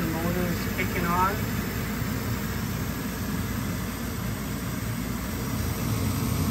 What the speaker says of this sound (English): The inducer motor is kicking on.